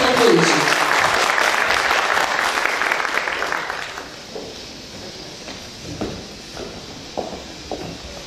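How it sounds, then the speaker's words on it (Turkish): An audience applauds loudly at a Turkish poetry festival for about four seconds, then the clapping thins out to scattered claps and room noise. "Alkışlarınız Ahmet Doğan için"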